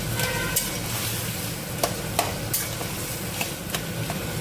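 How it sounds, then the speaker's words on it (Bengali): Turmeric stirred into spices frying in a pan, a soft steady sizzle broken by scattered scraping and clinking stirring strokes, close and fairly quiet with no talk. "আর এই যে হলুদ, এইটাকেও ভালো করে মিক্স করে নেব।"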